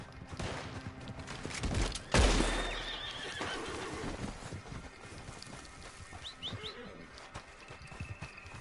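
A horse neighs loudly in the video game Red Dead Redemption 2, one sharp whinny that fades out, with hoofbeats, gunfire-like pops and faint bird chirps in the background.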